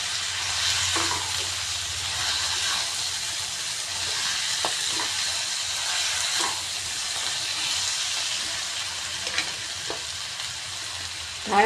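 Turmeric, salt and coriander fry in a pan with a continuous bright sizzle and hiss, broken by occasional clicks of a spoon stirring, and no talking.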